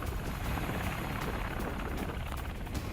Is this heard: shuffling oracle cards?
no